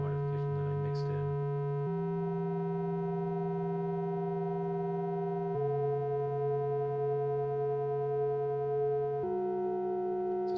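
Synthesizer feedback run through a spring reverb, steady droning harmonic tones that hold and then shift pitch in abrupt steps a few times, sustained and fairly quiet.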